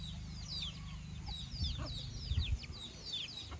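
Chickens cluck softly and repeatedly over a low steady hum, with occasional small chirps from chicks scattered throughout; fairly quiet and close by.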